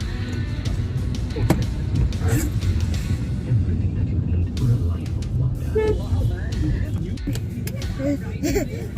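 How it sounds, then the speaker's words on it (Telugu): Heavy city traffic heard from inside a moving car on the way to AMB Mall, a steady rumble of engines with a few short horn toots scattered through, while voices talk over it. "అటువైపు చూడండి, అటువైపు ఎంత ట్రాఫిక్ ఉందో"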